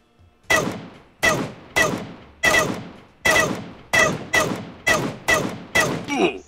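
Gunfire in the PUBG battle royale game: about ten sharp, loud shots fired one after another at a steady, slightly quickening pace, each ringing off with a short echoing tail, with no talking over them.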